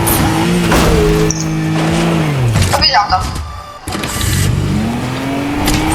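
A Japanese car in the video game Fortnite, its engine revving and accelerating up and down, with a loud, close engine drone that dips and climbs again as players talk over it.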